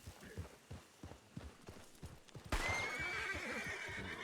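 A horse in Red Dead Redemption 2, played on the WildRP roleplay server, clops along with steady hoofbeats, then lets out a loud, sustained neigh.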